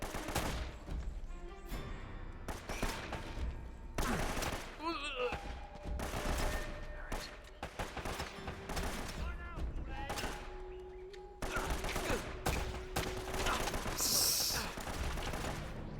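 Machine gun fire in a shooting video game: sharp bursts of rapid shots recurring across the stretch, with a person talking over the gunfire at times.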